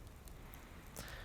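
Soft, steady rain falls in Card Survival, a faint continuous patter on surfaces, alone and quiet through the brief moment.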